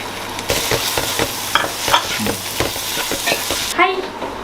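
Jackfruit being stirred in a pan for ela ada, the spoon scraping in repeated strokes over a steady sizzle as the fruit cooks down and releases its moisture; no talking.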